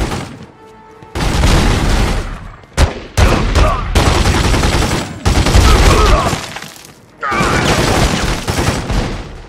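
Heavy gunfire from The Godfather 2 video game, with loud bursts and booming shots repeating through most of the stretch, short gaps between volleys, and a voice talking over the shooting.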